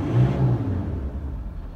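The 3.2 litre engine of a 2012 Ford Ranger XLT runs close by, giving a brief smooth rev with a low rumbling whir that eases off.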